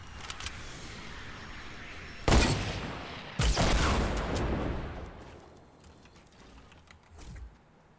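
P90 SMG fire in Fortnite: two loud bursts of rapid gunfire, the second longer and trailing off, with a smaller burst near the end over a busy game background.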